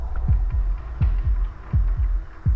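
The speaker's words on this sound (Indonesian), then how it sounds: "Jantung gua berdetak kencang lagi" Heartbeat effect from the horror video game Death Park, deep thumping double beats repeating quickly and steadily, loud and close over a low droning hum.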